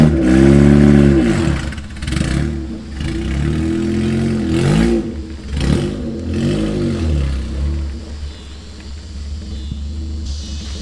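An all-wheel-drive Honda Civic engine revs hard and rumbles while pulling a car out of mud, loud and close, rising and falling in several strained surges before easing off.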